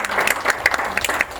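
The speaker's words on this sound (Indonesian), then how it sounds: "Oke, boleh kasih tepuk tangan buat mbaknya ya," A university audience claps for a woman who just answered a question about productive assets, a short burst of scattered, distinct handclaps at moderate loudness with no voices.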